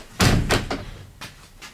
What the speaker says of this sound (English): You can hear how more solid that door is now.